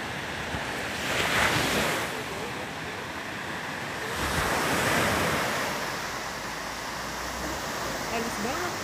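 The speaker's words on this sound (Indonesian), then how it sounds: "Pantai Kluwi." Surf rolls onto Kluwi beach in Lombok, lined with tall coconut palms, as a steady loud wash with two broad swells of breaking waves and wind buffeting the microphone.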